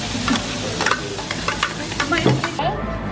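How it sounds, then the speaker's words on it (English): Oil being stirred around a wok while cooking, a busy sizzling hiss with repeated scraping strokes of a utensil against the metal, close and moderately loud. "stir the oil around the wok, please"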